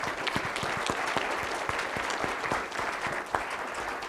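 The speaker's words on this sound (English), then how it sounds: "Let's give Amy, Brian, and Zach a round of applause." Audience applause for three panel speakers at a watershed symposium on Great Salt Lake dust: a steady, fairly full round of clapping from a seated crowd, even in loudness throughout, with a few sharper claps near the front.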